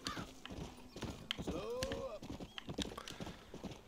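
Horse hooves clip-clop at a quick riding pace in the Red Dead Redemption video game, with a brief whinny partway through. A voice talks over the quiet hoofbeats.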